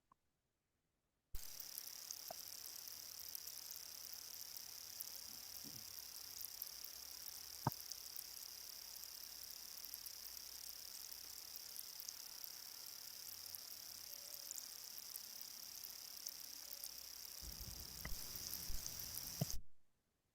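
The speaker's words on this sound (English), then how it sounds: "So this is the sound of an aquatic plant reproducing" Rigid hornwort photosynthesizing underwater gives a steady high whine over a faint hiss, with a few sharp isolated ticks scattered through, close and quiet throughout.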